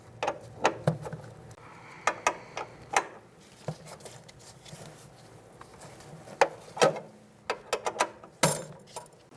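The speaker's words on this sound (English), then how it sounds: "I'm going to use a 10mm line wrench and loosen up this line on the top hose." A 10mm line wrench works loose a brake line on the rear brake hose of a 2000-2007 Ford Taurus: scattered sharp metallic clicks and taps over quiet rubbing, close and fairly soft.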